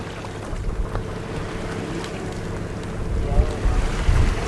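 A sailboat moving under a freshly unrolled sail in very light wind, with steady wind buffeting on the microphone and water washing along the hull, growing louder toward the end.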